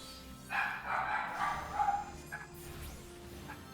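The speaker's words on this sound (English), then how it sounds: "I apologize if you can hear my dog in the background." A dog barks repeatedly in the background of a home, the barks coming in an excited cluster at moderate distance, with no talking over them.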